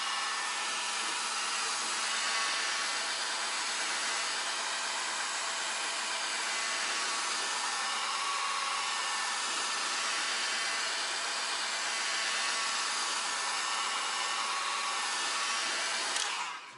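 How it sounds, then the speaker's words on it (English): A heat gun running on a medium setting warms 3M 94 primer during installation of custom splash guards on an Alfa Romeo Giulia QV, giving a steady, loud airy blowing roar that holds constant throughout with no talking. "I'm going to take the heat gun at a medium setting"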